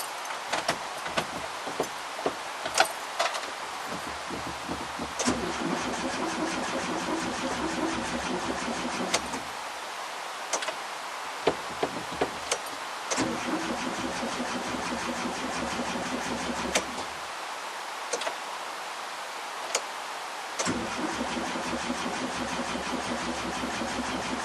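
A VW T25 engine with a starting issue cranks repeatedly in long whirring bursts after a coil change, separated by short silent gaps, and never catches; close and steady throughout.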